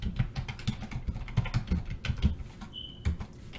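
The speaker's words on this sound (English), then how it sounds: "first thing I'm going to do is type hello comma" Fingers typing on a computer keyboard, a quick, uneven run of close, crisp key clicks and taps, with a brief higher tone near the end and no voice.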